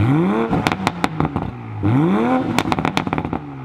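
A car engine in sport mode revs twice, close and loud, each rev followed by a rapid burst of sharp exhaust pops and crackles.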